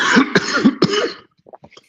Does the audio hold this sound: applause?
no